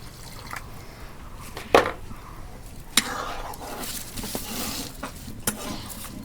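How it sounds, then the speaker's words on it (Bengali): Water poured into a pan of simmering singhi fish curry brings a splashing, bubbling burst and hiss, followed by soft stirring scrapes and drips at close range. "পরিমাণ মতন পানি দেবো"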